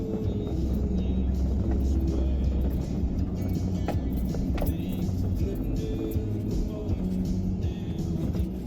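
A vehicle rolling slowly through weeds, giving a steady low engine and tire rumble with scattered brushing, scraping and clattering knocks against the body, close and continuous.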